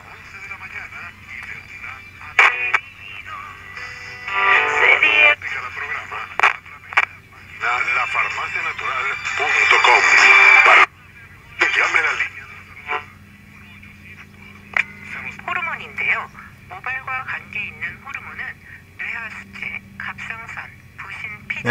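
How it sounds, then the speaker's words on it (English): A Coronado Gamble-Skogmo AM pocket radio being tuned across the band by turning its tuning capacitor, producing shifting whistles, static hiss and brief snatches of station voices and tones that come and go, loud and close. "As I rotate the tuning capacitor, I'm moving the dial."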